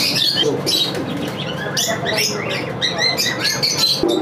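Fancy pigeons at a pigeon farm, including Archangel birds, chirp, coo and flutter busily together, a loud, close, continuous chatter with no talk.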